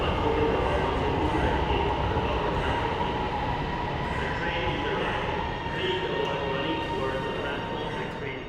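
Lahore Orange Line driverless metro train rumbles steadily and loudly along the track near Chauburji station, with a continuous rolling hum and faint voices beneath.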